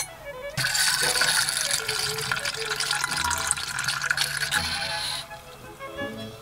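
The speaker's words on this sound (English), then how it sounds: "Now that we've aerated it and we put it in our decanter" Rosé streaming into an antique Austrian crystal decanter made before World War I, a steady close liquid rush lasting several seconds before tapering off.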